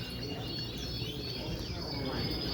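Faint canary twitters and chirps in a busy show hall at the Miami canary show, distant and partly buried under steady crowd murmur and room noise.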